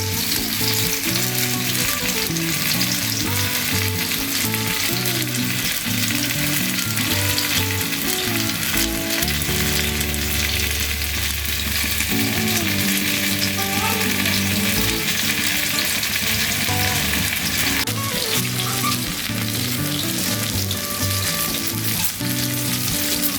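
Stuffed pomfret fish fries in hot oil on a tawa over a low flame, with a loud, continuous crackling sizzle that holds steady throughout, backed by a faint tonal bed. No one speaks.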